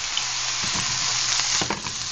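Eggplant frying in a pan with coconut milk, a steady close sizzle and bubbling throughout with faint stirring clicks.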